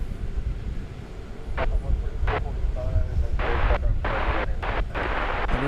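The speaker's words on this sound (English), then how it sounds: "American Flight 60 from Narita Airport in Tokyo, 777-200" American Flight 60 from Tokyo Narita arriving at DFW Airport, a Boeing 777-200 whose loud, broad jet roar sits under busy talk, with short crackling radio bursts cutting in and out.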